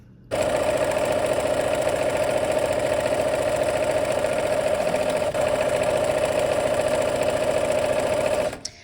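A domestic sewing machine runs steadily while stitching the final seam of a quilt block, joining navy and aqua pieced triangles. It starts abruptly and holds one loud, even mechanical whir with a rapid pulse for about eight seconds, then stops.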